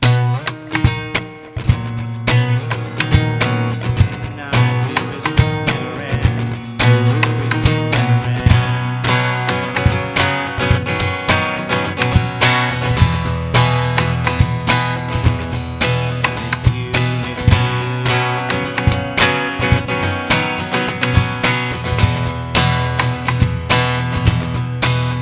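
Looped electric guitar chords from a song play loud and steady, a repeating strummed pattern that continues throughout with layered parts and no talking.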